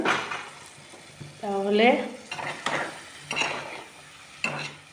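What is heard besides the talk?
spice paste with water being sautéed and stirred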